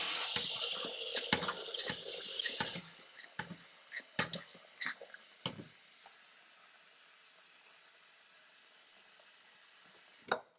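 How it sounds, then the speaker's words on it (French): Water poured into a Thermomix bowl makes a steady close hiss and splash for a few seconds. A series of small knocks and taps follows, then a faint background hum. "Je vais quand même mettre de l'eau dans mon bol pour pas que ça sèche."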